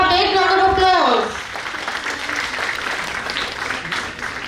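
An audience at a college festival in Jaipur breaks into applause as a speaker's voice trails off, steady clapping that continues to the end.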